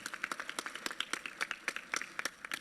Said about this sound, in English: How about a round of applause for our raffle prize donors?